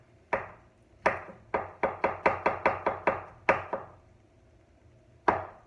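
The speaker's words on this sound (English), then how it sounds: "So I'm just going to finish chopping these mushrooms." A knife chopping mushrooms on a cutting board: about fourteen crisp, close knocks, a few spaced strokes, then a quick even run, then two slower final chops.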